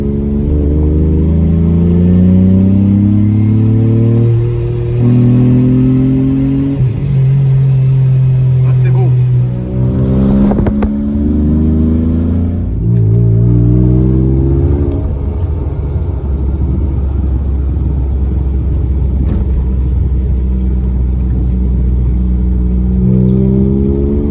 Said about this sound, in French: la sonorité du 24 est exceptionnelle